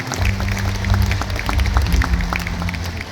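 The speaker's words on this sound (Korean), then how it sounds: "여러분 다시 한번 뜨거운 박수로 축하해 주시기 바랍니다." An audience applauds at a March 1st Independence Movement Day commemoration ceremony in Incheon, producing steady, moderately loud clapping from a crowd in a hall, with a low musical hum underneath.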